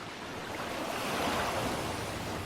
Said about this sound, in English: As waves hit the western edge, they surge over the sandbanks.